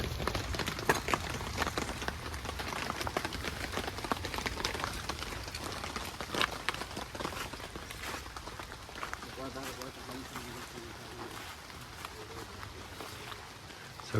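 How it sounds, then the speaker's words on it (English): Steady rain falling on a mountain property in the Philippines, a dense continuous patter that runs throughout, with a voice talking over it. "It's a rainy day up here at the land."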